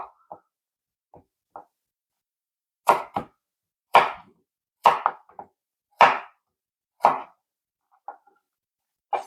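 A kitchen knife slices and cubes potatoes on a cutting board, with sharp, close chopping knocks at an uneven rhythm: a few faint taps, then about eight firm strikes roughly a second apart.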